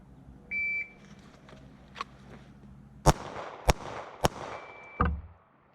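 A shot timer gives a short electronic beep, and then come three sharp, loud pistol shots fired one-handed at a shooting range, spaced about half a second apart, with a fainter beep near the end.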